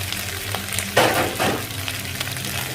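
Beef dropped into a hot pan for a stir-fry bursts into a loud sizzle, then a steady close frying hiss continues with soft scraping from stirring, and no one speaks.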